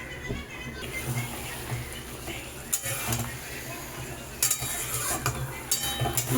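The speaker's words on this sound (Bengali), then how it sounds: "এইবার আমি সব কিছু ভালোভাবে এতে একসাথে মেশাবো" A spoon stirs mutton kosha masala with potato in a pot. The soft scraping and clinks repeat over a quiet sizzle, with a few sharper metallic knocks against the pot.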